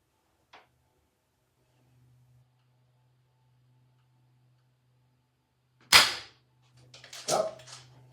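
An Avenge-X PCP air rifle fires at a target: a faint click early on, then a sharp, loud shot crack, followed by clicks and rattles of handling against a low steady hum.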